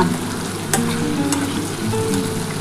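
Potatoes, bitter gourd and pointed gourd fry in fish oil with a loud close sizzle, punctuated by a few sharp spatula clinks and stirring scrapes.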